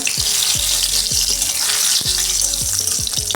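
Dried red chilies, a bay leaf and five-spice seeds fry in hot oil, a loud, dense, continuous crackling hiss filling the space close up, with faint recurring low tones underneath.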